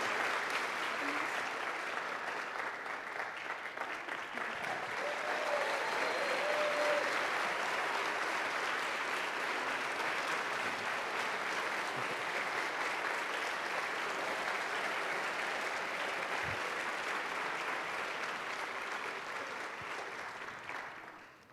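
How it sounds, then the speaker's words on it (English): An audience at a panel event claps in sustained applause that swells and holds for about twenty seconds, then tapers off at the end. "I guess we have a round of applause for our panel"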